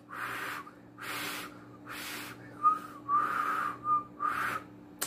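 A person tries to whistle and mostly blows air, making about five breathy pulses in a loose rhythm with a few thin, wavering whistle tones coming through near the end. The sound is close and fairly quiet, with no speech.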